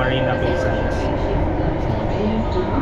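A Singapore MRT subway train rides along with a steady, loud rumble and rail roar filling the carriage from start to finish, with voices faintly audible underneath.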